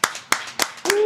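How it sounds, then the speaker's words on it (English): Four sharp, evenly spaced hand claps ring out close by, each about a third of a second apart, as a small audience claps for a giveaway winner; a brief voice or tone sounds under the last clap. "let's clap it up for who won"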